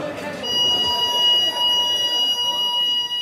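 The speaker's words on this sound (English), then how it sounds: "staff can activate an alarm system to call for help. This is known as a break glass." Prison alarm system sounding after a violent incident in a Dublin jail, a steady electronic beeping tone held over a loud, busy background of voices and noise.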